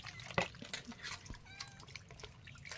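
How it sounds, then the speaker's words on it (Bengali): Fish, a pomfret, being washed by hand in water, with soft splashes, drips and trickles, close but faint, with a little background murmur. "একটু মাছটা ধুয়ে ধুয়ে কমপ্লিট করে নিক"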